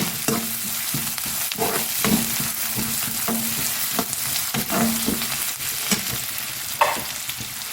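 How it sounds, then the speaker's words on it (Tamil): Sliced onions frying in oil with mustard seeds and urad dal for beetroot poriyal, a loud close steady sizzle punctuated by repeated spatula scrapes and stirring clatter throughout, with no talk. "பாட்டி ரெண்டு வெங்காயம் கட் பண்ணி போட்டுட்டேன் வெங்காயம் நல்லா செவந்த உடனே"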